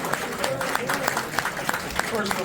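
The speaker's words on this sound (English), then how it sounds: "We give him a round of applause." Audience at an outdoor political petition drive applauding a newly elected school board member, a short spell of scattered, moderately loud clapping with crowd noise and a voice speaking over it.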